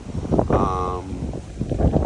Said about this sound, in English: You can see it's pretty windy today